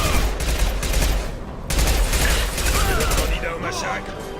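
Submachine gun fire rattles in rapid continuous bursts during a Mass Effect 2 firefight, with someone talking over the shooting.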